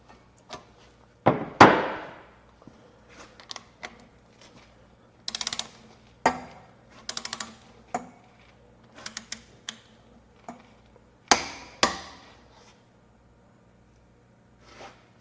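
A torque wrench tightens a nut on an engine head stud, giving sharp isolated clicks and ratcheting taps spread unevenly over a quiet background, with several louder knocks.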